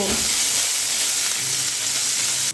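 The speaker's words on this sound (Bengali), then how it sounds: "এবারে পেঁয়াজটা তেলের সঙ্গে একটু ভেজে নেব" Chopped onion fries in oil in a pan, a loud, close, continuous sizzle with faint stirring, heard alone for a couple of seconds.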